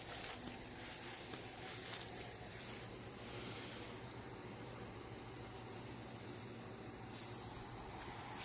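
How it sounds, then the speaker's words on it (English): Cricket chirping steadily outdoors near rocks and a redbud tree, a continuous high-pitched trill with a fainter pulsing call underneath, alone without talk. "Hear a cricket down here."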